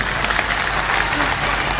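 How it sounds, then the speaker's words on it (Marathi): An audience at a felicitation ceremony honouring meritorious students gives sustained, even applause, a thick crowd of clapping hands heard close and continuously. "मित्रांनो मला टाळी लागते बरं का."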